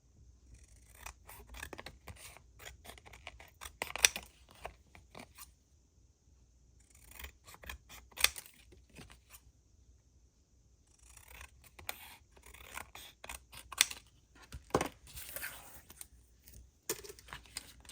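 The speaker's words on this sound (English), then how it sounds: "we'll trim off all of the white and see how much more we need to trim on the sides" Scissors snip and trim paper for a vintage holiday photo album craft, in repeated bursts of crisp cutting strokes separated by short pauses, close and fairly quiet with no talking.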